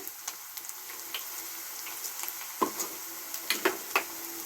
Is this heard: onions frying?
yes